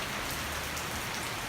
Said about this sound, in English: And again, it starts to pour again.